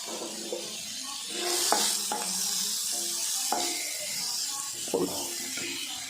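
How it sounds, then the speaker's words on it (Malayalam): Three eggs poured over sautéed onion in a hot pan and chopped up like a scrambled omelette: a steady sizzle with repeated scraping and knocking of the spatula against the pan, fairly close. "ഇതെല്ലാം ഇട്ട് നമുക്കൊന്ന് മുട്ടയും കൂടെ ഒഴിച്ചൊന്ന് കൊത്തി പിരിക്കാം"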